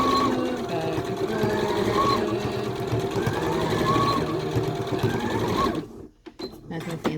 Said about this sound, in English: First up, sewing the bottom elastic on.